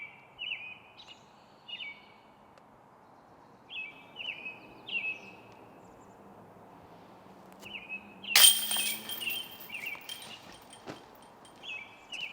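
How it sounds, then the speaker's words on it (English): Birds sing on a disc golf course at the 2024 Cascade Challenge, several short clear chirping phrases repeating every second or two against a quiet background, with one brief louder rustle partway through. "it feels like the birds are just on another whole nother level"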